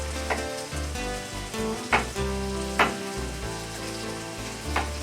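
Roughly chopped vegetables frying in a pan alongside a pork tenderloin meal, a constant loud sizzle with occasional sharp pops and stirring clatters, no talking over it.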